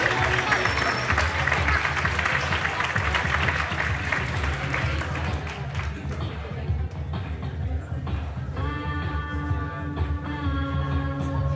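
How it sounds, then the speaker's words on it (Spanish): An audience at a Christmas pre-show gives a loud round of applause for a performer called el Califa; the clapping is dense at first, then thins and fades as music and voices come in. "Así que un fuerte aplauso para el Califa."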